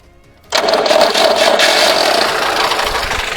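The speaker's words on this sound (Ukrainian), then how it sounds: "вмикаємо запалення та перемикаємо на стартері" An old GAZ 24-02 car engine, cold and on choke, cranks on the starter and catches abruptly, bursting into a loud, rattling run that continues steadily.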